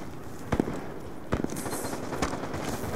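KSG pump shotgun fired in Call of Duty: Black Ops 2, with a few sharp, widely spaced blasts over steady background game noise.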